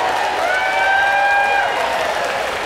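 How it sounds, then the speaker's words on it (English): A crowd at a live steel-cage wrestling show applauds and cheers steadily, a dense wash of clapping with a few sustained shouts, close and fairly loud throughout. "A big round of applause for them."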